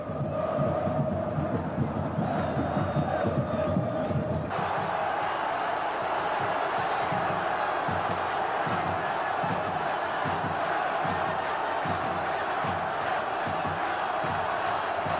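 A football stadium crowd roars and chants after a Vasco da Gama goal, a dense, loud wall of cheering voices with rhythmic chanting pulses that swell midway and hold steady throughout.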